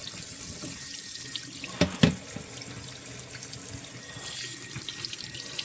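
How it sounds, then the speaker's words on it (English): Warm water runs from a tap into a sink in a steady close stream, with a couple of brief splashes and clunks as something is handled under it. "Running my warm water."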